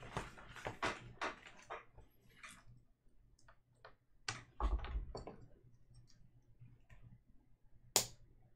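Lego pieces from set 75278 snap and click together in faint, sharp, irregular taps at close range, with a quiet pause between bursts and one crisp final click.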